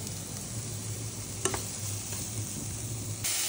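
Onions sautéing in butter make a faint, steady sizzle, with a single sharp clink of a utensil partway through and a low background hum.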